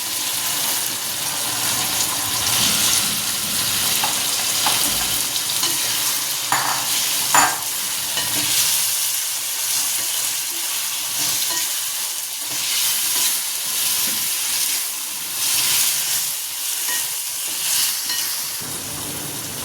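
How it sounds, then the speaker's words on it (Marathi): Vegetables and beans are stirred and fried with cooked onion and tomato for a vegetable biryani, a steady close sizzle with scraping spoon strokes and a few louder clinks. "आता त्याच्यामध्ये मी टाकते आपल्या ह्या भाज्या, बीन्सच्या पुऱ्या"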